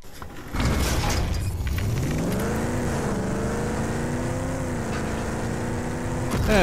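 A car engine in the video game RAGE 2 drones and revs steadily as the vehicle drives, a loud sustained tone that rises in pitch, with no talking.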